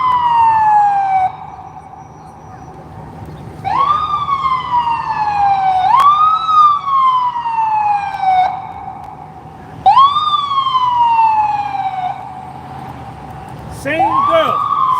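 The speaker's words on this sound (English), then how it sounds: "go with the cops, man, with the sirens" Police sirens wailing as they pass on the street, repeated rising and falling sweeps that swell loud and close, with brief gaps between cycles.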